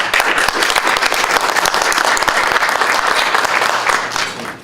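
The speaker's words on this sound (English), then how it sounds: "So I'd like to give them a round of applause." Sustained audience applause fills a fundraiser event for a construction charity, dense steady clapping from a crowd that stays loud for several seconds before tapering slightly at the end.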